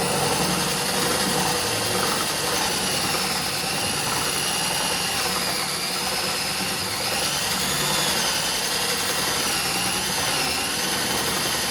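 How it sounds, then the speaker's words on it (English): A power drill boring into a cabinet for a hinge, a steady loud whirring motor drone with a shifting high whine, running without a break. "So I'll continue on with the drilling."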